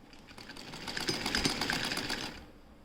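A sewing machine runs in a steady rapid stitching rhythm along the edge of a neck bias strip on a garment, close and moderately loud for a few seconds before stopping.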